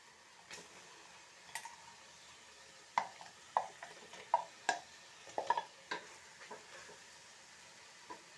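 Chili and salt marinated prawns stirred into a pot for home-style prawn biryani, giving a series of soft scraping and clinking stirring strokes at close range, clustered in the middle, over a quiet background with no talking.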